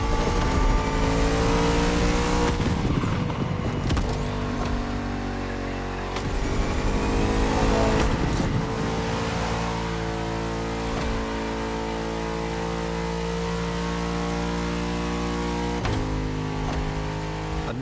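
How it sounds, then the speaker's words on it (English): A Bugatti Vision GT supercar engine in The Crew Motorfest video game, droning loudly and steadily with several sharp revving swells and gear shifts, continuous and close with no voices. "The Bugatti Vision GT."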